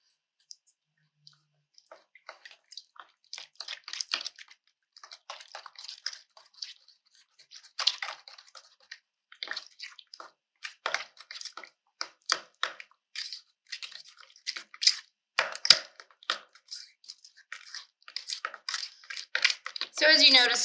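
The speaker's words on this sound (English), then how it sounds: "And we're going to mix this together." Milk, mayonnaise and granulated white sugar are stirred together for a Hawaiian macaroni salad, giving a run of close, soft wet clicks and squelches that come in uneven bursts, growing busier and louder toward the end.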